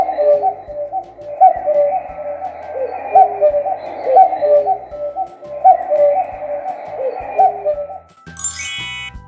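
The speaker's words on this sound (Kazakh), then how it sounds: "cuckoo." A cuckoo repeats its soft, hollow two-note call over and over, steady and mid-distance, with a brief bright jingle at the very end.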